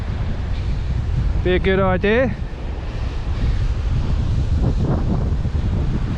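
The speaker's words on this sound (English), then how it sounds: "Sorry about that howling wind" Loud howling wind buffets the microphone on a seaside walk toward the rocks, a constant roaring rumble with surf-like noise throughout, while a person briefly speaks partway through.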